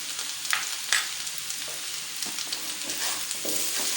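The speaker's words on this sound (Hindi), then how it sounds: "और चमचा जो है मुसलसल चलाते रहेंगे ताकि ये नीचे से चिपक ना जाए" Half-cooked potatoes fry in oil while a spoon keeps stirring them, a bright continuous sizzle broken by a few sharp scraping knocks near the start and softer stirs later.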